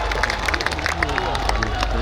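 An audience claps to welcome the Prime Minister, a brisk patter of many hands close by, mixed with crowd murmur for a short burst.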